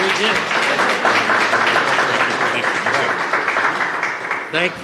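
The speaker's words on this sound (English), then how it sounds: "Give him another round of applause." Thick, sustained applause from an audience at a public gathering of elected officials in Flushing, loud and continuous, with voices mixed in beneath it and a brief louder voice near the end.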